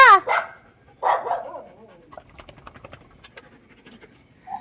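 Close dog barks, a couple of sharp yelps, followed by rapid rhythmic panting breaths that fade toward the end.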